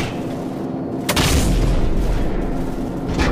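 Cannon fire in the video game Call of Duty 4: Modern Warfare: one loud, heavy boom that rolls into a sustained, rumbling roar, with a second burst starting near the end.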